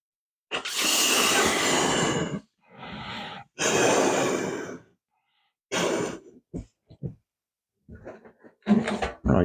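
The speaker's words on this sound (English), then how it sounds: "So the air doesn't rush out of here as quickly as it does out of this one" Air hisses out of a homemade CD hovercraft in loud, broad rushing bursts: two long blasts, then a shorter one, followed by scattered brief puffs and a final louder gust, with no talking.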